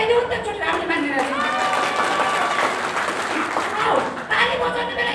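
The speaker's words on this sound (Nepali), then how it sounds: "ताली बजाइदेऊ नि" A crowd applauds steadily and fairly loudly for about five seconds, with voices talking and calling out over the clapping.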